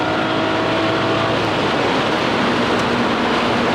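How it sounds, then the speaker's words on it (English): A stock BMW 335i xDrive E92 pulls hard in third gear at highway speed on an interstate, a loud, steady roar of engine and rushing road and wind noise filling the cabin, with no talking. "This is a third gear pull."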